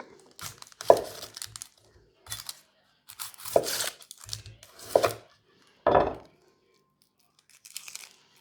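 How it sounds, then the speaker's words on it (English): A knife chops an onion on a cutting board in about five sharp, separate strokes with short quiet gaps between them, close and clear. "Next, we're gonna chop an onion."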